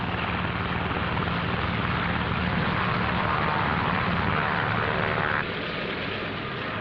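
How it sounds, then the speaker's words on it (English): A constant roar of propeller engines fills the deck of the carrier USS Shangri-La as Navy F6F planes are catapulted off. The sound is loud, steady and unbroken, with a slight drop in level near the end. "Navy F-6F mother control planes are catapulted from the carrier's flight deck"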